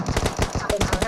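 Rapid automatic gunfire from PUBG Mobile, loud bursts of evenly spaced shots repeating steadily and close up, with a voice faintly mixed in.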